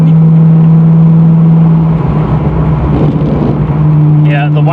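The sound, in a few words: 1993 Ford Mustang GT convertible driving, shifting into fourth gear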